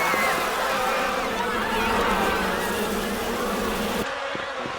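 A swarm of bees in a Ben 10 cartoon makes a dense, continuous buzzing drone that fills the whole stretch, loud and steady, ending slightly thinner at the close.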